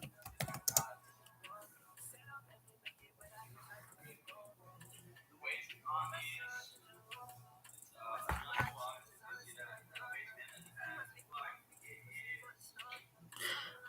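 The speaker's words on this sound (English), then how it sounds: "My PayPal, I will type it for you. I will type it in for you." Computer keyboard typing in irregular bursts of clicks, close and moderately loud, with a steady low hum underneath and a person speaking softly at times.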